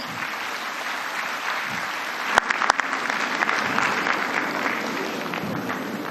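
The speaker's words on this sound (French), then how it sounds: "Je voudrais qu'on l'accompagne de nos applaudissements." A large audience at the 15th Francophonie Summit applauding steadily, a dense wash of clapping that holds at an even level throughout, with a couple of sharp clicks partway.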